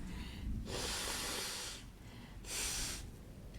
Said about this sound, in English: Just need to blow my nose here